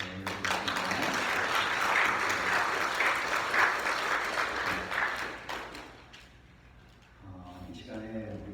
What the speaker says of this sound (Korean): 다시 한번 하나님께 영광의 박수를 올려드리겠습니다.